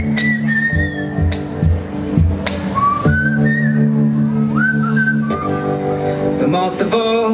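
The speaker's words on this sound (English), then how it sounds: "and whistle a little melody." Someone whistles a short, lilting melody, clear and close, over a soft background of sustained tones.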